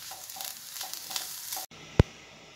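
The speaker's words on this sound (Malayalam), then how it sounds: "തേങ്ങ ഒന്ന് വറന്ന് വന്നപ്പോൾ കുറച്ച് പെരിഞ്ചീരകം," Grated coconut and fennel seeds roasting in a pan for mutton curry, giving a soft dry sizzle with light scraping stirs, then a short pause and one sharp clack of the spoon against the pan.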